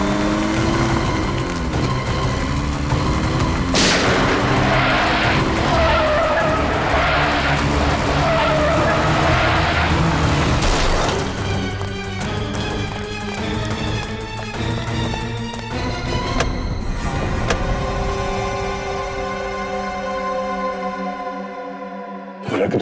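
A car skids in a TV crime drama scene, giving a long, loud tire screech layered with dramatic music and effects that fades toward the end.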